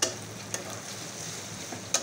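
Dried fish (shutki) frying in a pan with a steady, even sizzle that runs throughout, broken by a few sharp crackles and spits, close by and with no voices.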